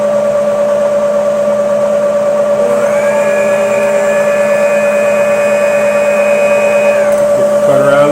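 A manual milling machine cutter runs steadily with a loud, constant mechanical whine and hum, its pitch shifting partway through and a brief change near the end as it comes off the part.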